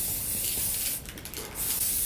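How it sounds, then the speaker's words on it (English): An aerosol can sprays grey paint onto a flower pot in a close, continuous loud hiss that dips briefly in the middle before resuming. "So we're just spray painting now."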